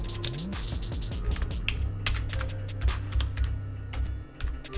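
Rapid typing on a computer keyboard at a PC, a close, irregular run of crisp key clicks with short pauses as a folder name is entered.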